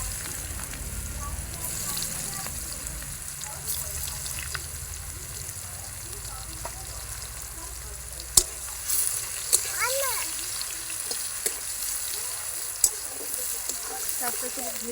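Onions fry with dried chilli and whole spices in a steady, moderate sizzle, with scattered clicks and clatters of a utensil and a voice talking faintly over the cooking.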